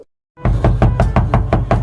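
Loud, close knocking on a door: after a brief silence, about seven firm, evenly spaced raps follow in a steady rhythm, with no voices over them.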